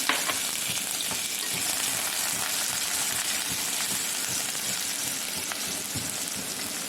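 Mustard seeds, cumin and onion fry in hot oil in a pan, a dense, steady sizzle and crackle with scattered pops from the seeds, close and continuous with no talking.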